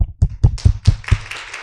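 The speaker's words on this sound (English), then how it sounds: "Round of applause" A few claps at a culture collection workshop session, coming as a short series of distinct close hand strikes that blur into light, quick applause.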